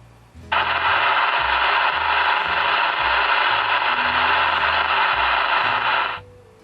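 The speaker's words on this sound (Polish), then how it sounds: "Jeśli wyłączymy blokadę szumów, to radio musi niestety odbierać zakłócenia, jakie są w eterze i przez to będzie szumiało." Stryker SR-955 HP CB radio with the squelch switched off: after a brief pause, a loud, steady wash of static hiss bursts in and holds for several seconds before cutting off, while a faint low voice murmurs underneath.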